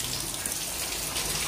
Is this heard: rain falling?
yes